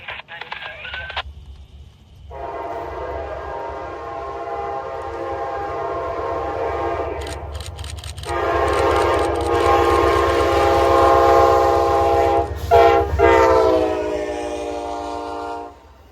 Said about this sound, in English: Hot on the heels of Amtrak Train 80 was Amtrak Train number 40, the northbound Floridian, on its way from Miami